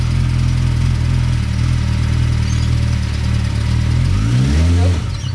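A homemade go-kart engine idles with a loud, steady hum, then revs up sharply near the end as the accelerator is pressed before dropping off.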